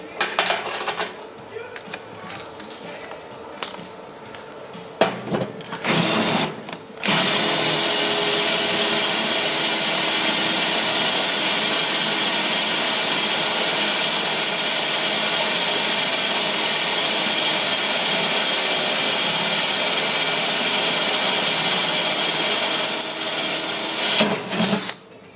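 A power drill whines steadily for a long stretch after a few short bursts and clunks, loud and close, with no talk.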